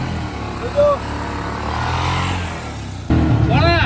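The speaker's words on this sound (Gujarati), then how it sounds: "કેટલું પાવરફુલ એન્જિન છે જોવા ખાલી" A small auto-rickshaw engine runs steadily, then rises sharply in a loud rev near the end, with brief talk in the background.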